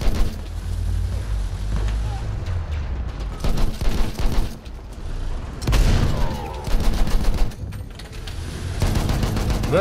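Bursts of rapid gunfire in the Battlefield 1 Brusilov Offensive operation: dense crackling volleys with booms, loud and close, broken by quieter stretches, with voices talking over the battle.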